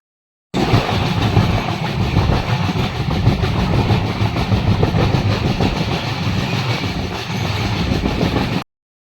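Steady, loud rumble of a moving train heard from inside a carriage, with continuous low wheel and track noise on a journey toward Byndoor, no talk.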